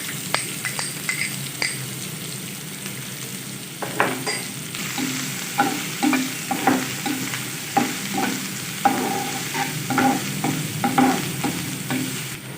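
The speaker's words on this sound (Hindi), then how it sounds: "हल्का सा भून लेंगे।" Finely chopped onion frying in a pan with golden garlic, a constant hiss of sizzling oil broken by regular scraping stirs of a spoon, close and clear with no talk.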